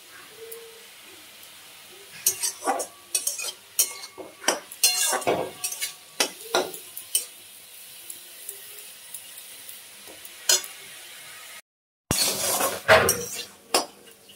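A spatula scrapes and clinks against a pan in bursts of stirring while fenugreek greens sizzle softly underneath; there is a short break before the stirring resumes.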